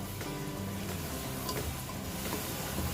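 Potatoes and tomatoes fry together in a pan for rajma masala, giving a dense, continuous sizzle with occasional faint stirring knocks, close and fairly loud throughout; no voice is heard.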